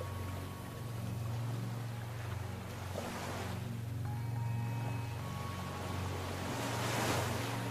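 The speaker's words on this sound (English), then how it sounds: "Allow the sound of the waves to continue relaxing your whole body." Ocean waves wash in and recede in slow swells, with a steady low hum and soft wind beneath, no voices.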